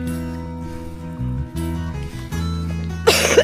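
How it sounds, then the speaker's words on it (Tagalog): A couple of short, close coughs from a traveler on a trip to Sagada and Buscalan, followed by a brief harsher burst at the end. "Ubo."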